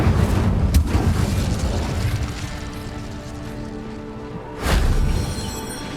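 An Incendio spell in Hogwarts Legacy bursts with a sharp crack early on, followed by a deep boom and rumbling fiery blast near the end, loud against the game's background.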